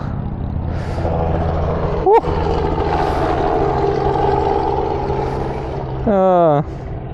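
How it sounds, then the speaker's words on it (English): A sport motorcycle with a loud modified exhaust idles with a steady rumble close by, then is blipped hard twice, giving sharp rising-and-falling revs near the start and end. "You change the exhaust. It's so loud."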